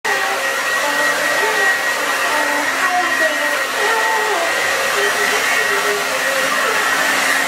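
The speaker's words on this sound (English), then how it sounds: "Okay, so I fully blow dried my hair" A hair dryer blowing hair dry runs loud and steady throughout, a constant close whine and rush of air with slight wavering as it moves.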